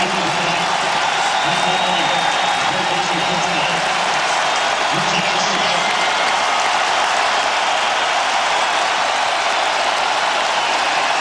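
A football stadium crowd at a West Virginia Mountaineers versus Kansas Jayhawks game cheers and applauds in a loud, steady roar, with a commentator talking over it.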